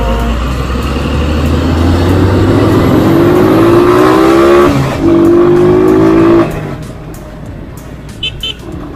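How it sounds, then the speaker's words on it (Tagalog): Traffic flows along Sumulong Highway in Antipolo, with a loud, close car engine rising in pitch as it accelerates past, then fading to a quieter road hum with brief faint horn-like tones near the end. "Sa part na to, laging traffic."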